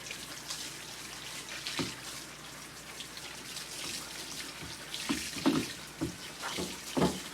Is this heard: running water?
yes